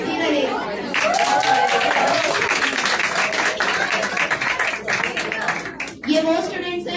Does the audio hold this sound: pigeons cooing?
no